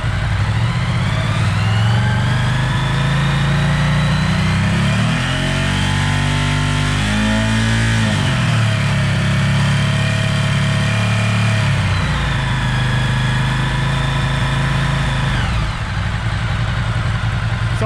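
Ducati ST4-family motorcycle engine after throttle body setup and idle adjustment, loud and close, rising through a couple of sustained revs and settling back toward idle with no talk.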